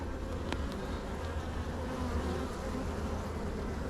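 Honeybees buzz in a dense, steady drone during a hive inspection, a continuous close swarm hum with a faint knock or two as an old frame is lifted out.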